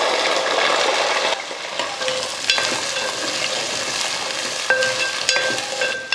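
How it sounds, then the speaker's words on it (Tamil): Whole shallots sauté in hot oil with fennel seeds, chillies and curry leaves for a Chettinad chicken curry, a dense close sizzle with light spatula stirring and a few faint metallic clinks. "நல்ல வெங்காயம் இந்த அளவுக்கு நல்லா வதங்கியிருக்கணும்"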